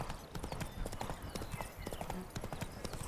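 Horse hooves clip-clop steadily on a road in The Witcher 3: Blood and Wine, the rhythmic clopping mixed with ambient game sounds while someone talks over it.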